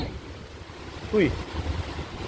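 Ocean waves wash on a beach with clean sand, a steady low surf rumble and wind noise throughout, with a brief voice-like sound midway and no clear speech.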